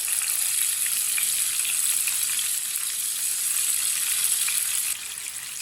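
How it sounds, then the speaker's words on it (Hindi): Onion, tomato and crushed raw mango fry in a pan with a steady, bright sizzle that stays close and even throughout, easing slightly near the end. "हल्का सा भून लेंगे।"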